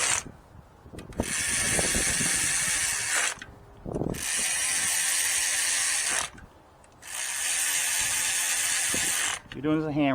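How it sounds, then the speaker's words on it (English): Hand ratchet snugging spark plugs on an Acura ILX engine, sounding as several long runs of close, rapid clicking, each lasting a couple of seconds with short pauses between, over a quiet workshop background. "If you're doing this a hand ratchet, just snug them."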